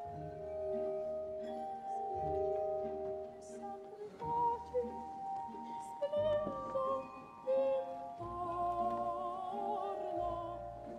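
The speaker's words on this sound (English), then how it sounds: "Glass harmonica." Glass harmonica from a recorded Romantic opera mad scene at a wedding ceremony, playing sustained ringing glassy tones as a slow melody over orchestral accompaniment, heard clearly and continuously.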